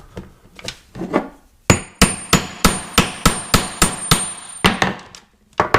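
A hammer strikes a metal grommet setter over and over to fix a grommet into a Tyvek tarp. After a few softer taps comes a fast, loud, evenly spaced run of about a dozen sharp blows, close by, with no talk.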